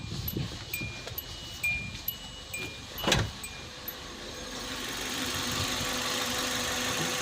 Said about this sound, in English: it's idling much better than before